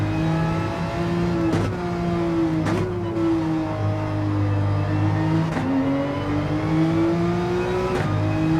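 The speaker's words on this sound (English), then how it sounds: "And the engine sound is lowered." A steady race car engine in Gran Turismo 7 drones and revs continuously, rising and dipping in pitch with a few brief clicks, no talking.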